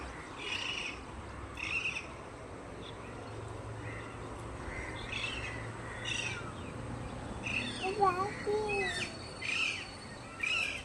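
Wild parakeets call from open fields and scrubland, their sharp chirps and squawks coming in scattered bursts at a moderate distance over a steady outdoor hiss, a little busier near the end.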